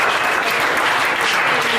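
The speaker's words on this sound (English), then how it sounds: "So huge round of applause to you guys." Attendees at an office team meeting give a dense, even round of applause, loud and close throughout the short burst.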